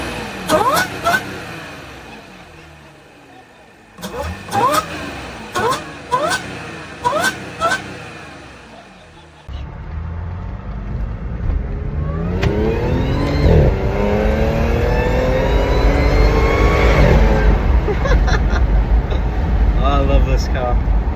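An Audi S5 fitted with an AliExpress cone filter intake fires off several short, sharp blips amid talk, then winds into a long, loud rev that climbs and holds with a throaty induction roar.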